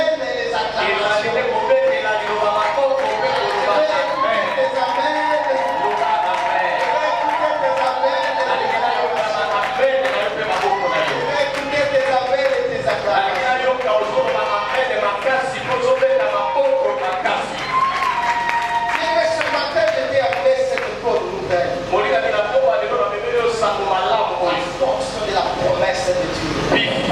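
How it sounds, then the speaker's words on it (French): Church congregation at a Sunday service cheering and applauding, a loud sustained wash of clapping and voices with music running underneath throughout. "c'est avec les amens et les acclamations"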